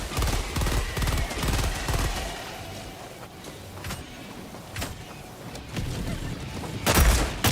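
Rapid bursts of gunfire from a player's weapon build in the Helldivers video game, dense automatic shots at first, then sparser sharp cracks and a loud closing burst, fairly close and loud.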